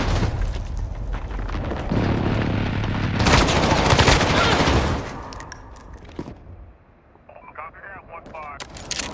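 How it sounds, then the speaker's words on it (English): Heavy explosions and rattling gunfire from a precision airstrike in the Call of Duty: Modern Warfare open beta, a dense loud barrage peaking mid-stretch, then easing to scattered shots and game voices. "Enemy precision airstrike. Take cover."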